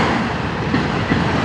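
A slow NS or CSX freight train rolling past in Fostoria, Ohio, a loud, close, continuous rumble with faint wheel clatter over a brief stretch.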